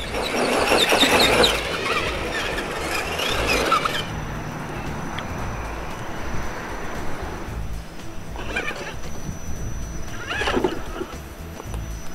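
A small electric motor whines and surges as an Axial Wraith radio-controlled rock crawler truck drives nearby, revving in bursts over crunching ground, with no talking.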